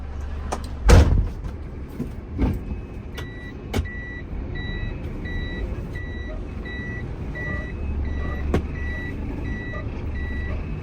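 A dirt truck reverses down a narrow track, its reversing alarm beeping in a steady evenly spaced rhythm over an engine rumble, with a few door thumps near the start.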